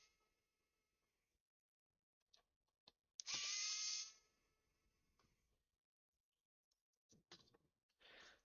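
An electric screwdriver whirs in a short, loud burst midway while a Nintendo Switch OLED is taken apart, with faint clicks and tool handling scattered around it and a few brief knocks near the end.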